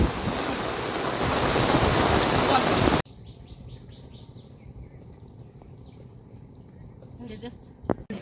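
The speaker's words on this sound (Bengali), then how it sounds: "খুব হচ্ছে বৃষ্টি" Heavy rain hisses loudly and densely for about three seconds by a river in the Sundarbans, then cuts off abruptly, leaving a quieter stretch with faint bird calls and someone talking.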